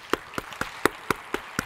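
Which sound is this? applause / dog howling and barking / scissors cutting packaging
applause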